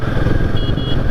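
A Royal Enfield Himalayan 450 motorcycle rides along after 2,500 km, with its steering pulling to the right, producing a loud, close, steady engine drone and wind rumble with no speech.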